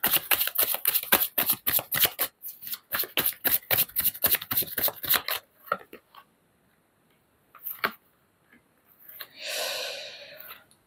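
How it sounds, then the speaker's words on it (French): Tarot cards are riffled in a rapid run of crisp flicks lasting several seconds, followed by a few isolated card taps and a soft sliding rustle as cards are drawn, all close and quiet. "On va tirer d'autres cartes."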